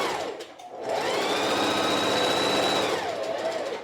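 A sewing machine runs a long straight stitch around a t-shirt, rising into a steady, fast whirring hum for about two seconds before slowing and stopping, close and clear.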